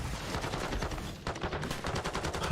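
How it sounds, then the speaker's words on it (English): Rapid automatic gunfire from a Call of Duty match in a competitive esports broadcast, dense overlapping bursts of shots running continuously and loudly throughout, with no talk over it. "Still bullets flying in from Boston"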